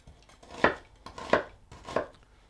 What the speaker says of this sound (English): we start by dicing the veg,